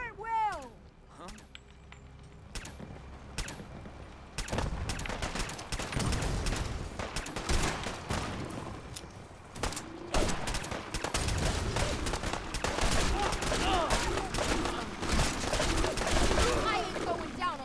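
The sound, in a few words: gunfire in video game Fallout 4 battle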